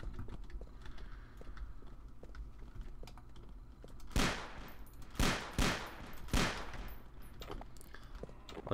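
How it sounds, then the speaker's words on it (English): A loud gun fires in a video game, four heavy, sharp shots in a loose sequence with brief ringing decay after each, against a quiet, low background hum. "Like, listen to how loud that gun is."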